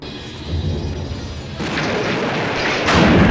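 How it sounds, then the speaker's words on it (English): A real practical explosion from the Star Wars film A New Hope, a loud rumbling blast that swells and builds through the clip, with a second heavier burst near the end and no talk over it. "That was a real explosion."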